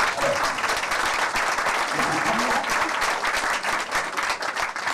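Steady, dense applause from an audience fills the whole stretch at an even, fairly loud level, with faint voices mixed underneath.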